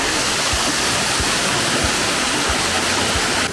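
Rushing water of the Zhenetskyi Huk waterfall in the Carpathians near Tatariv, a dense, steady roar of falling water that fills the whole clip, loud and constant with no voices.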